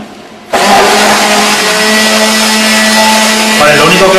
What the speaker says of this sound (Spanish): lo único que hago es introducir el aire con la batidora más rápidamente que con la agitación manual